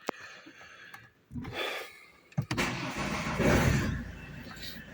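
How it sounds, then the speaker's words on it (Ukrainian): A Ford Kuga engine cranks and catches after a short pause, then settles into a steady, fairly loud running rumble. "Запустили двигун."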